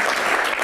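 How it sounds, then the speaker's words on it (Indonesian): Studio audience applause in a broadcast TV talk show, a dense, steady wash of clapping that stays loud and even for under a second with no voices over it. "Tepuk tangan dulu dong, biar bahagia."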